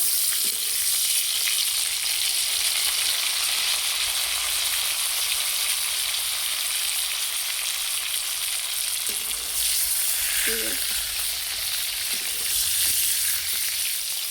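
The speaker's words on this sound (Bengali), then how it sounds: "এই যে আমার পটলটা ভাজা হয়ে গিয়েছে" Pointed gourd (potol) fries in oil with a loud, continuous bright hiss, broken by a few faint utensil taps and knocks.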